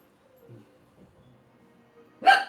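Near-silence with faint low murmurs, then a single sharp dog bark rings out loudly at the very end.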